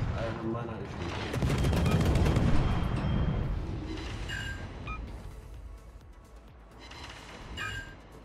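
Sustained heavy gunfire in a video game, a dense roaring stream of rapid shots that swells early then fades, with a voice talking over parts of it and scattered metallic pings later.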